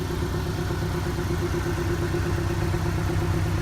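Porsche 718 Boxster S with its larger engine and standard dual exhaust tips, idling in a steady, even low rumble held at close range with no break throughout.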